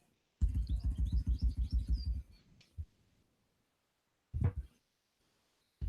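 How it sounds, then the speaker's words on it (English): Birds outside chirp in a quick, fluttering burst, then give a couple of short calls a few seconds later, picked up faintly but clearly by a microphone in a quiet room. "Those birds sound like they're right in my head."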